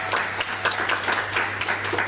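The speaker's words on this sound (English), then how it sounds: "Round of applause, colleagues." Conference audience claps in a steady patter of many hands, moderately close and fairly even, without voices on top.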